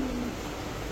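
A pigeon at a bird market gives a single brief, soft coo, low and fairly faint against a quiet background hum, with no speech.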